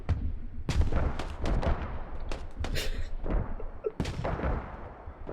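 Gunfire and explosive thumps from the military shooter game Squad, with scattered loud cracks and booms over a dense, continuous battlefield rumble.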